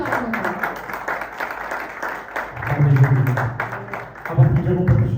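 A church congregation applauds at a Sunday service, a dense, steady clapping that swells in waves, while a voice talks and calls out over it.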